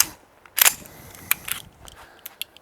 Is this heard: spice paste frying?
no